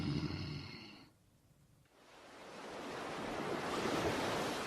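Big rolling surf crashes onto a beach, a loud broadband roar that briefly dips before swelling back in and holding steady, with wind across the microphone.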